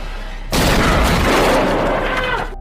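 A sudden loud burst of gunfire in the film Death Sentence erupts after half a second of quiet, a dense volley of shots with rumbling echoes that sustains and slowly fades.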